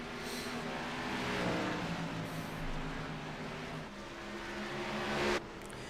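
Race cars in a racing video game roar through Watkins Glen, a steady loud engine drone with shifting revs and gear changes throughout, cutting off abruptly near the end.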